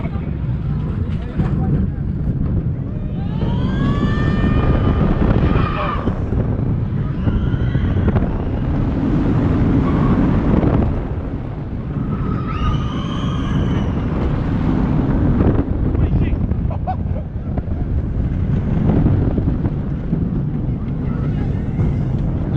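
A roller coaster ride at Europa Park in Germany, heard from on board: loud, continuous wind roar buffets the microphone from start to finish, with rider screams and shouts rising over the rush at a few points.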